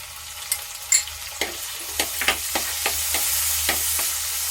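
Tomatoes dropped into frying green chilli and garlic for a clam curry, a steady sizzle punctuated by a series of sharp stirring scrapes and clinks.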